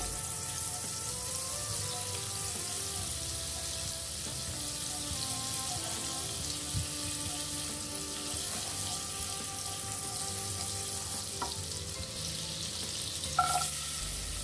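Margarine sizzles and crackles steadily in a hot frying pan as it melts, a continuous hiss at moderate volume with a brief clink near the end.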